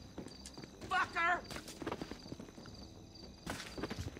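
Hooves clip-clop in GTA 5 as a horse walks in the game, a few irregular hollow knocks alongside other game sounds, with talking heard.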